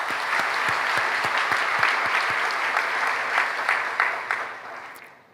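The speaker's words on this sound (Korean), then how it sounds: "박수를 돌리겠습니다." A church congregation gives sustained applause during a service, a thick, even wash of many hands clapping with a few sharp claps standing out near the front, then tapering away.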